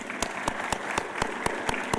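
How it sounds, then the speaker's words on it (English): Audience at a university arts and humanities symposium applauding an award recipient, outstanding student in Japanese; sharp, evenly spaced claps in a steady rhythm, moderately near. "Please, can we give him a round of applause?"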